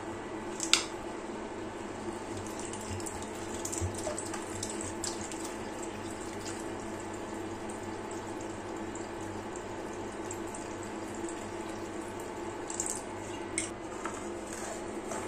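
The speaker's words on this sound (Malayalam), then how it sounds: "ഇനി നമുക്കിതിലേക്ക് അല്പം വെള്ളം കൂടെ ഒഴിച്ചങ്ങോട്ട് കൊടുക്കണം." Water is poured into a pot of Kerala-style sardine fish curry and stirred, giving a faint, continuous watery trickle with light clinks of a utensil against the pot and no talking.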